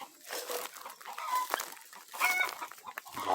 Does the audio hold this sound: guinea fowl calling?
yes